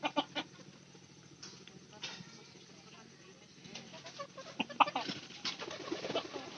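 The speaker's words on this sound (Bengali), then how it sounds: "এটা কিন্তু ডিম পাড়া মুরগি" Backyard laying hens clucking and calling at close range, with scattered bird sounds and a person talking quietly throughout.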